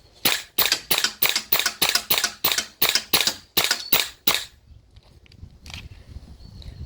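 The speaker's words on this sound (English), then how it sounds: "this is the T8 MWS HPA adapter. It is doing semi." A T8 MWS airsoft rifle fitted with an HPA adapter fires about a dozen sharp semi-automatic shots in a fast, steady rhythm, close and loud, followed by quieter handling noise.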